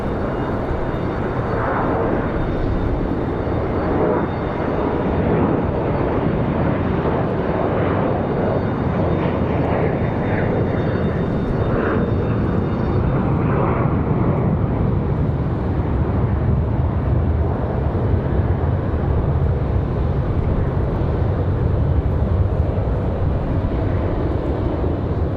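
An airliner takes off at Raleigh-Durham airport with a sustained, steady engine roar and low rumble that holds at even loudness throughout, with a faint high whine fading partway through.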